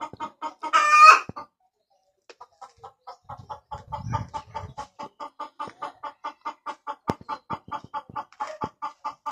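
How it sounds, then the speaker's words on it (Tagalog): A rooster crows briefly, then chickens cluck nearby in a steady run of quick, even pulses that continue to the end. "Kaya nandito yung mga alaga naming manok sa gilid."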